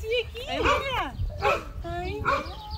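A pet dog barks and yips in short, pitched bursts close by, mixed with whimpery sounds, while people talk over it.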